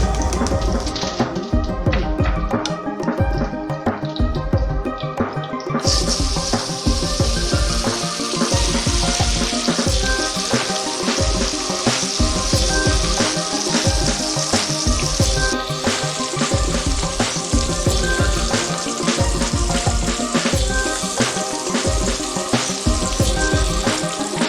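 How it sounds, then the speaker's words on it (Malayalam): Fish frying in coconut oil with curry leaves gives a loud, steady, close sizzle that crackles and spits continuously throughout, with no voices. "ഓരോരുത്തരുടെ ഇഷ്ടത്തിനനുസരിച്ച് ഇതിനെ ഫ്രൈ ചെയ്തെടുക്കുക"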